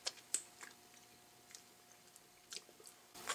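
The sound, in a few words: tasting and chewing mac and cheese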